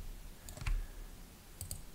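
A computer keyboard key is pressed with a couple of faint, sharp clicks, quiet and close, over a soft room hiss, with no talking.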